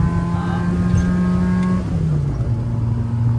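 Renault 4L with a 40–50 hp engine revving hard at full throttle during a 4L Trophy initiation drive, a loud sustained drone that holds steady, then drops in pitch before settling again, heard close from inside the car.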